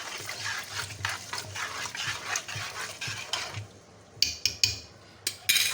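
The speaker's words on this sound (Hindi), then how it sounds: "और अच्छी तरह मिक्स कर देंगे।" Rice and water stirred together in a pot with a spoon, a wet sloshing swirl with repeated scraping strokes, followed by several sharp clinks of metal against the pot.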